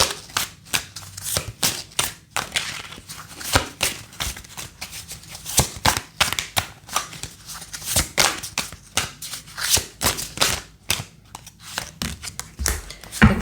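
Tarot cards are shuffled and drawn from a deck in a steady run of quick papery riffles, flicks and slaps lasting throughout, close and fairly loud with no talk.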